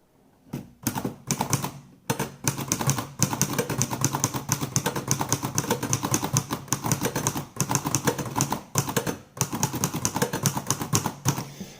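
Typing on a Smith Corona Empire typewriter with its original ribbon and keys: rapid, sharp mechanical key strikes in bursts with brief pauses, close and clear, with no voices.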